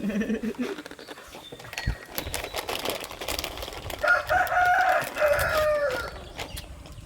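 A chicken clucks and squawks nearby, rising into a drawn-out crowing call, with people talking in the background.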